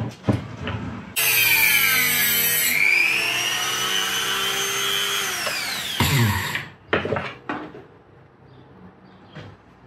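A power tool runs loud and steady for about five seconds while cutting a slot into a stuck screw on an old mill's oil system, with its pitch dipping and then rising again. Shorter knocks and scrapes come before and after it.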